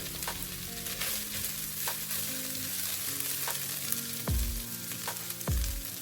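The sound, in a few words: stirring fish roll filling in a pan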